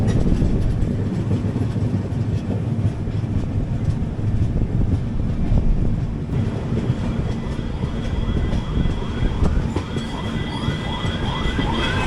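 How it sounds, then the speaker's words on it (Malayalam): The Humsafar Express rolls into Kannur station, a loud steady rumble of wheels on rails with rattling carriages, faint clacks and rising squeals of braking wheels near the end. "നമ്മൾ ജസ്റ്റ് കണ്ണൂർ സ്റ്റേഷനിലേക്ക് കയറുന്നു."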